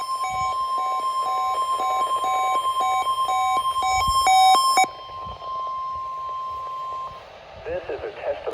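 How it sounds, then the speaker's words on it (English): EAS emergency alert signal on a radio test broadcast, a rapid string of electronic data-burst beeps followed by a long steady attention tone that cuts off, then a voice begins. "This is a test of the warning alarm and EAS signal."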